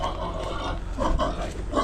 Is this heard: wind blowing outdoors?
no